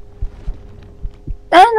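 Heartbeat effect from the horror video game The Mimic: four low, dull thumps spaced through the quiet, steady and close, followed by a sudden loud voice cutting in at the end.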